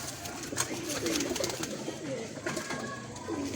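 Pigeons, a pair of bred kabutar birds in Islamabad, Pakistan, cooing close by in repeated soft rolling calls over a constant background hum.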